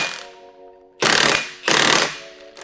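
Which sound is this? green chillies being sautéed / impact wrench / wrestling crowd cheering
impact wrench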